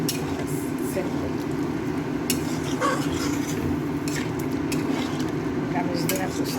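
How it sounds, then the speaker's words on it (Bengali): Fried potatoes being stirred with a paste of fried poppy seeds in a pan, a steady close scraping and stirring over a continuous sizzle. "ভাজানো পোস্তটা দিয়ে নাড়াচাড়া করে পরে একটু জল ঢেলে দিলাম"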